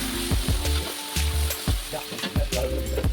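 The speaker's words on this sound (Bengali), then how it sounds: "ফোড়ন খুব ভালোভাবে গরম হয়ে আসতেই রসুন বাটা দিয়ে দিলাম।" Garlic paste hits hot oil with whole spices, including small cardamom, and fries with a loud, close, continuous sizzle punctuated by regular strokes of a stirring spoon.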